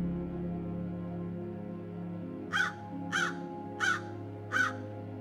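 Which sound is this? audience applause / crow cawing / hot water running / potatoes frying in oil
crow cawing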